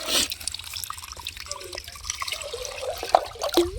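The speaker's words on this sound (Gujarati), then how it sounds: "હું પંપને પાણીથી પૂરો ભરી લઈશ" Water pours and drips into a 15-litre sprayer pump tank mixed with cow's milk and jaggery, with trickling and dripping sounds and a few rising gurgles as it fills, close and moderately loud with no talk.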